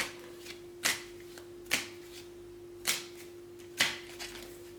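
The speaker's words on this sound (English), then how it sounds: "Do not mind my shuffling." Tarot cards being shuffled by hand, heard as four crisp, evenly spaced riffling bursts close up against a quiet room with a faint steady hum, and no talking.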